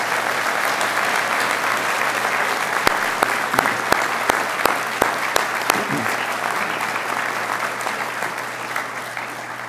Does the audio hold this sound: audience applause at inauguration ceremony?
yes